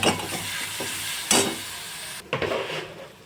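Food for Mumbai-style vada pav sizzles steadily in a hot pan over a medium gas flame while a utensil scrapes and stirs, with a few sharp clanks against the metal.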